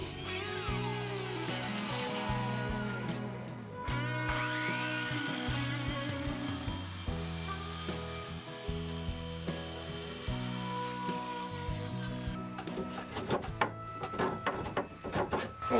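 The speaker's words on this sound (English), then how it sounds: "I cut a 2x4 just like how I'm doing now." Hand saw cutting through a 2x4 wooden board in a homemade workshop, its blade dull, giving a steady stream of close rasping strokes with a ringing, tonal layer over it.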